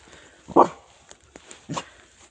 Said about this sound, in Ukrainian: А ну йди, покажи, на кого ти там гавкаєш.